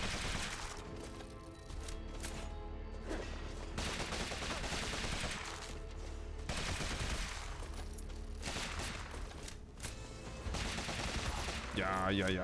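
A gunslinger shoots enemies in Rogue Legacy 2, with repeated rapid gunshot volleys over busy game music and effects, the shots coming in quick bursts throughout.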